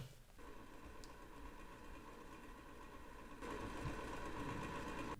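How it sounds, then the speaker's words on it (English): An airport-style bathroom hand dryer blows a steady, muffled, whirring drone that stays constant and grows slightly louder partway through, with no voices present. "we're going to try out one of those hand dryers that you often see in like airport bathrooms"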